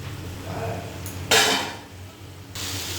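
A utensil stirs and scrapes food around a cooking pan, with metallic clatter and one louder burst of scraping partway through, close and fairly loud, without talk.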